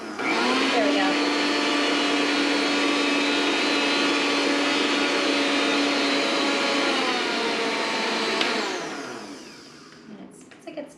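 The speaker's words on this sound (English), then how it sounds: "mix this up, blend this more than that." A blender runs loud and steady while crushing a pineapple drink with ice, holding a constant high whir for about eight seconds before spinning down into quiet clatter.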